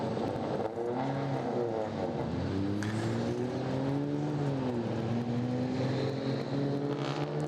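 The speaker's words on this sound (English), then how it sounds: "cars rolling here for Group A, Track Battle Q1 from Pittsburgh International Race Complex" Race cars at Pittsburgh International Race Complex during a GRIDLIFE track event, engines droning loudly as they rise and fall in pitch through gear changes, continuous and fairly close.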